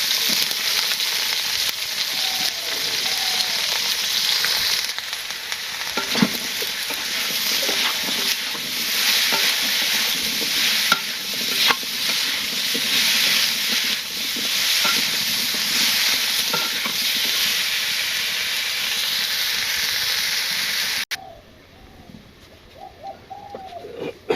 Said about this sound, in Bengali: পেঁয়াজ ভাজা হয়েছে আলু ভাজা ভাজা